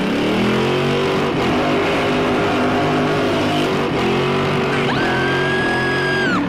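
A 1966 tri-power muscle car engine revs hard and accelerates, loud and close, with a rising engine note and a high whine building in the final seconds, no voices.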